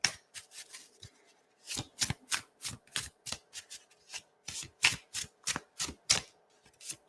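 Oracle cards are shuffled by hand close up in a quiet room, a rapid series of soft papery riffles and slaps in uneven bursts, with no talking.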